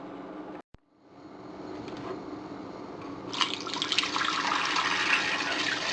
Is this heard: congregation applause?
no